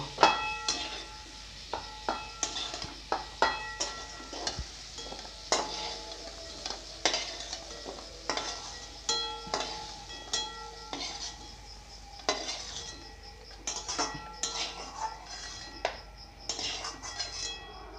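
Cooked spice paste with coriander leaves is scooped out of a wok, producing a string of close metallic scrapes and clinks in an uneven rhythm over a faint sizzle.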